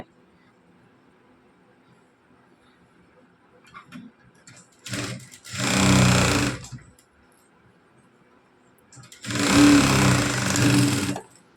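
A sewing machine stitches a blouse in two loud bursts of rapid rattling needle action, each lasting a couple of seconds, separated by quiet pauses with faint handling sounds.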